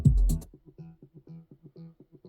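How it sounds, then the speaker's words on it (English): A gated synth in a progressive trance track built in Ableton Live chops into quick rhythmic pulses, fairly quiet and alone after a short thump at the start. "Which is a gated sound."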